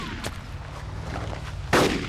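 AK rifle fire in the military shooter Arma 2 during an insurgency firefight: a few sharp, close gunshots, the loudest cracking in near the end over low background rumble.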